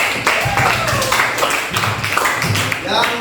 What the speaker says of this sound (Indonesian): Oke, tepuk tangan dulu buat sekalian